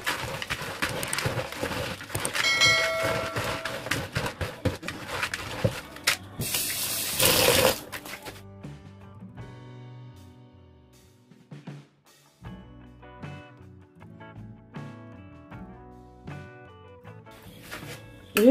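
Egusi seeds are washed by hand in soapy water, with loud splashing and sloshing at first, then a brief rush of pouring, followed by quieter intermittent swishes and rubbing in the bowl.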